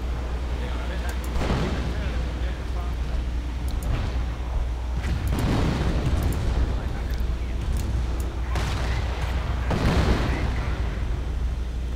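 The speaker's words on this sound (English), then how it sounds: "So much artillery." Artillery fire in a video game booms out in a series of heavy blasts, several bursts of rumbling explosions spaced a few seconds apart over a continuous low background roar.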